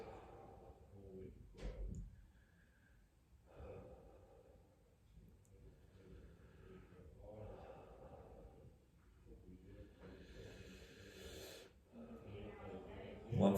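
Deep, slow breaths drawn in and out during a seated neck stretch, soft and airy with a sharper snort-like inhale early on and several longer exhales spread across a quiet room.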